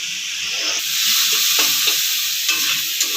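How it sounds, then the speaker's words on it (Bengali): Tomatoes stirred in a pan over a gas flame for a chili capsicum pasta sizzle steadily and loudly, with scraping spoon strokes and clicks breaking through the frying hiss. "এভাবে 2 মিনিট নাড়াচাড়া করলেই টমেটোটা গলে যাবে।"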